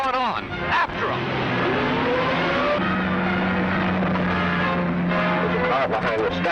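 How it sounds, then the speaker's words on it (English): A car engine drones loudly and steadily throughout a chase in a 1940s-style film serial, a continuous motor roar with faint voices mixed in. "There's a car behind us."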